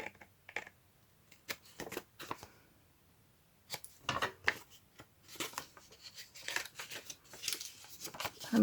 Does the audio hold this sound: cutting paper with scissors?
yes